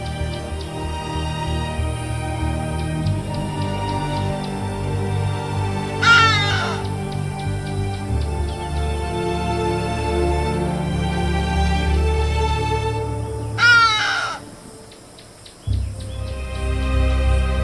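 A hadeda ibis gives two loud, harsh raucous calls several seconds apart, heard over a constant low rumble and steady background hum.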